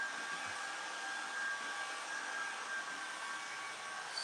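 A blow dryer running on its hottest high setting during a home haircut, a steady loud rushing whoosh with a faint whine, unbroken and alone for the whole stretch.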